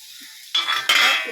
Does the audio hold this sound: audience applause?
no